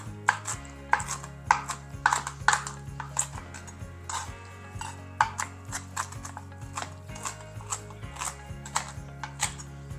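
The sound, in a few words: knife chopping cooked bacon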